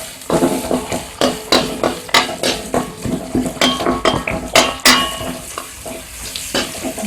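Onions and capsicum for chicken Manchurian being stirred in a hot pan, with repeated scraping and clinking of a utensil against the metal in an uneven rhythm over a soft sizzle.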